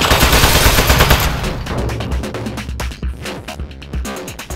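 Turret gunfire from the Aperture Desk Job video game rattles off in loud rapid bursts, dense automatic fire that thins into sporadic shots.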